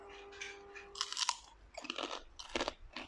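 Loud, close crunching of crispy pork rinds being bitten and chewed, several sharp crackly bursts separated by short quieter pauses.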